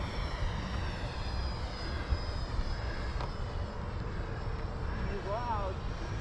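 A Freewing T-45 Goshawk 90mm electric ducted-fan RC jet roars steadily as it flies past, its high whine shifting slightly in pitch, with voices talking over it outdoors.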